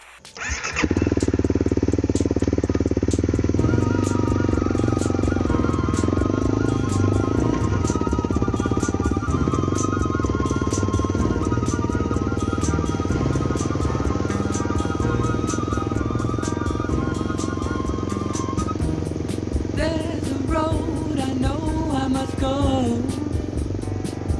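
A motorcycle rides along a road on the way to a river crossing, its engine droning loud and close without a break for over twenty seconds, with a rising rev near the end.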